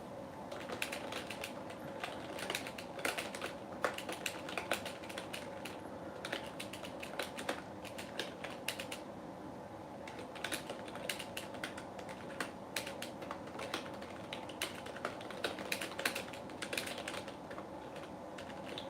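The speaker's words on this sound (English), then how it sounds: "If you guys see me typing, it's because I'm actually physically replying to some of the comments" Rapid, irregular clatter of typing on a computer keyboard while replying to comments, close and fairly quiet, continuous bursts of keystrokes with short pauses and no talking.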